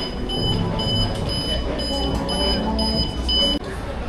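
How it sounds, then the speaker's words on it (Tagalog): A store door security alarm beeps in a repeated, evenly spaced high electronic pattern that runs for several seconds over busy shop background noise, then cuts off abruptly. "Nag-red alarm yung pintuan dun sa isa."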